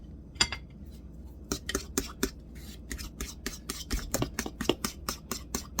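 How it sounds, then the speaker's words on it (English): A spoon stirs gluten-free, milk-free oat cake batter in a bowl, giving a quick run of sharp clinks and scrapes against the bowl, close and fairly quiet with no talking. "And then I'll mix again."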